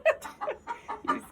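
Chickens clucking in short, irregular bursts close by, several soft calls spaced across a brief moment while being fed eggs, with no talk over them.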